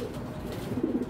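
Young racing pigeons coo softly at close range, a few low, throaty murmurs swelling toward the end over a quiet background, with no one talking.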